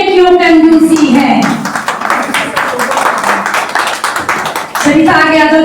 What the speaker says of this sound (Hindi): तालियों में क्यों कंजूसी है?